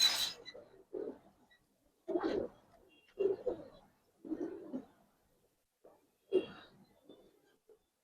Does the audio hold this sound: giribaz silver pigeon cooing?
yes